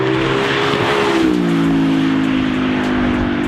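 An Audi R8 V8 with a Milltek exhaust comes off throttle, its loud engine note sliding down into a burbling overrun heard from inside the car, with no talk.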